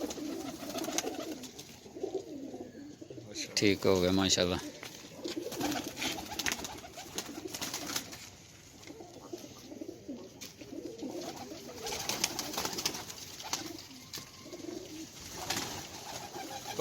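Pigeons coo on a rooftop in Sialkot, soft repeated throaty calls close by, with a brief burst of wing flapping early on and someone speaking quietly in the background.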